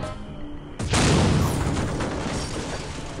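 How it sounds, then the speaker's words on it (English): A big explosion in the game Escape from Monkey Island bursts in suddenly and loud, then rumbles and fades slowly over the following seconds. "And a big kaboom."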